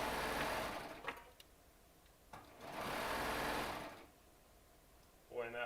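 A Baby Lock Triumph serger runs in two loud, steady whirring bursts with a short pause between them, and a voice speaks briefly at the end.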